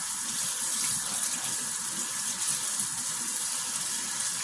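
Raw chicken drumsticks washed under a steady stream of running tap water, a continuous close splashing rush into the sink with no talk over it.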